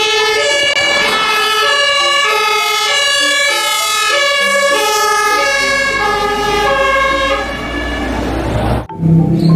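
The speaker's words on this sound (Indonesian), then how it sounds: "Di sini ada mobil pemadam kebakaran." Toy fire truck siren wailing continuously in a loud, steady electronic pattern with rising and falling tones, close by, ending abruptly with a brief knock near the end.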